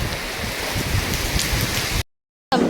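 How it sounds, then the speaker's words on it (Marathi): Steady rain pours down outside in a dense, even hiss. It cuts out abruptly for a moment, then resumes. "तुम्हाला बाहेर पाऊस दाखवतो. पाऊस काल रात्रीपासून चालू आहे."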